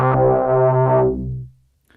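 A Moog Matriarch synthesizer in series mode plays one rich, bass-heavy sustained note that holds for about a second and then fades away over the next half second.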